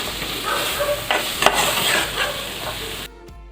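Ginger, green chilli and garlic are sautéed in a pan for a liver curry, giving a loud close sizzle with scraping stirs and a sharp knock of the spoon partway through, before the sound drops off abruptly.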